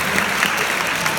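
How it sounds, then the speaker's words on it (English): A crowd at a senior all-night party hypnosis show breaks into thick, sustained applause, many hands clapping at once with scattered sharper claps poking through the steady roar. "Let's give them all a big round of applause again, you guys."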